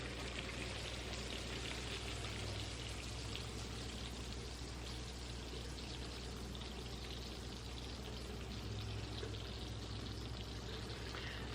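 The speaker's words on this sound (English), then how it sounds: "Let's pour the caramel." Hot homemade caramel pours into a pan with a continuous soft hiss and crackle that holds steady throughout, over a low constant hum.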